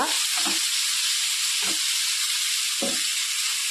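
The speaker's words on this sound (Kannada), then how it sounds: "ಇದನ್ನ ಈಗ ಒಳ್ಳೆ ರೀತಿಯಲ್ಲಿ ಫ್ರೈ ಮಾಡ್ಕೊಳ್ಳುವ ಟೊಮೆಟೊ ಎಲ್ಲ ಮೆಲ್ಟ್ ಆಗೋ ತನಕ ಫ್ರೈ ಮಾಡ್ಕೊಳ್ಳುವ" Chopped tomato fries in a pan for Kundapur-style mushroom sukka, a steady loud sizzle running throughout with three short scraping stirs spaced across it, no voices.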